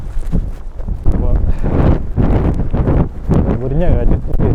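Strong winter storm wind buffets the microphone on an outdoor walk in -9°C cold, a loud, continuous rumbling roar that surges and dips throughout, with people talking over it.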